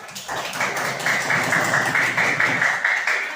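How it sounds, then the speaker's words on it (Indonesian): A classroom of students in an Islamic studies lesson claps hands together in a steady, rhythmic unison pattern, fairly close and loud, continuing for several seconds without talk. "tepuk tangannya mana?"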